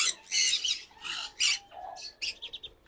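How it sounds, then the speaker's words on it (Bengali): Crimson red-bellied parakeets squawk in a run of loud, harsh, close calls that come in bursts, with short sharper notes toward the end. "crimson red bellied parakeet"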